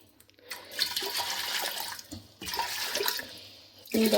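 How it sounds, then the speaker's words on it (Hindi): Water pours into a pot of lentils (dal) for cooking in a home kitchen, two splashing, gushing bursts separated by a short pause, fairly close and alone. "अब मैं देखो इसमें थोड़ा पानी डालती हूँ"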